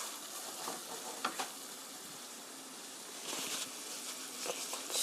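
Gochujang sauce stir-frying in a pan at a camp cooking setup, with a steady bubbling sizzle and occasional scraping clicks of a utensil stirring through the thick paste.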